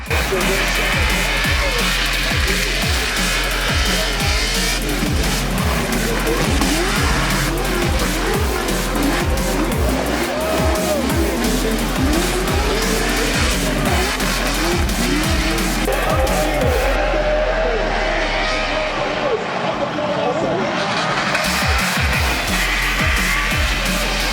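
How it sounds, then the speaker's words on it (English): Drift cars at a night Formula Drift event at Road Atlanta scream past, engines wailing and tires squealing in long skids, with repeated loud passes, crowd noise and some voices mixed in. "The engines are screaming, the crowd is roaring, and the drivers are hanging it all out on every run."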